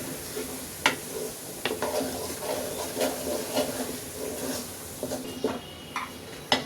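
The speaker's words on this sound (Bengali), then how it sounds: "এটা তো আমি 1 মিনিট একটু কষিয়ে নিচ্ছি" Small potatoes with vegetables being sautéed in a pan for Bengali vegetable khichuri, a soft steady sizzle with occasional sharp clicks of a spoon stirring against the pan, no voices.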